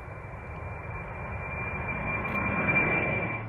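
A large four-engine aircraft powered by IHI turbofans roars steadily, a broad continuous jet rumble that swells gradually louder toward the end, with no voices.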